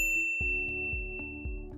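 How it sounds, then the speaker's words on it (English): A bright notification bell sound effect dings several times in a regular rhythm, each clear metallic tone ringing out and overlapping the last, with no voices. "ring the bell to be notified about our latest videos."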